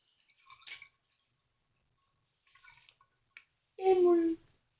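Lemon concentrate being mixed into water, with a couple of soft, faint trickles and then a louder, brief pour-and-splash near the end; a voice murmurs briefly.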